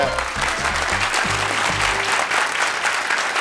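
A studio audience at a Turkish TV show claps steadily for a singer, with dense, loud applause filling the whole moment.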